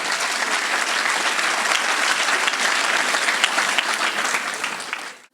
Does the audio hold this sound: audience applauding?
yes